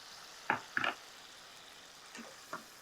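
Ground paste drops into hot frying masala in a pan for hotel-style brinjal thokku, giving two short, close sizzling bursts followed by a few fainter spatters, quiet overall and without speech.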